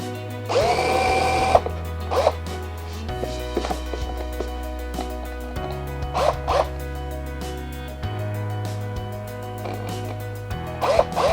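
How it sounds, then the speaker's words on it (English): A small power drill whirs in several short bursts with pauses between, close by, steady and fairly loud, boring small guide holes for screws. "we will use the smallest possible drill just to drill guide holes in which we will put the screws"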